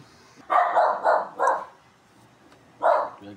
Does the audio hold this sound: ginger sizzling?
no